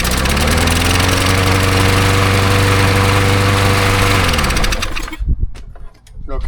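A Briggs lawn mower engine with a new carburetor runs loud and steady, a rough buzzing drone that cuts off abruptly near the end, followed by brief clattering and a few spoken words.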